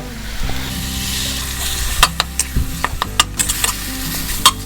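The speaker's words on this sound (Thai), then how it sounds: "ผัดหมูสับของเราให้สุกเลยนะครับ" Minced pork stir-frying in a pan with a little water, a continuous sizzle under repeated sharp clicks and scrapes of a spatula against the pan, close up, plus a low steady hum.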